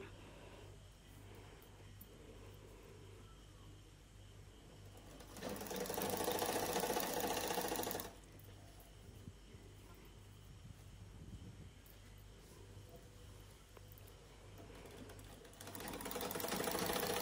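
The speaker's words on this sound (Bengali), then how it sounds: "এইভাবে বরাবর সেলাই করে যাবো" An electric sewing machine stitches along a lungi hem in two loud, steady whirring runs, separated by a long quiet stretch of low hum.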